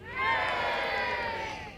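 A crowd at the 151st Open golf tournament at Royal Liverpool cheers and shouts together in one loud, sustained burst lasting under two seconds.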